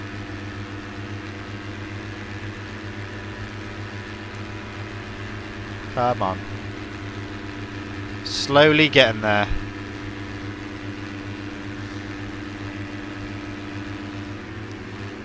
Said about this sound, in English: You're going to be revving out the whole time on the Super Motards.